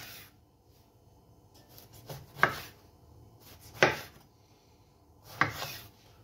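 A knife chops through an aubergine on a board in three distinct, evenly spaced cuts, each a sharp close thud with a short scrape, separated by quiet pauses.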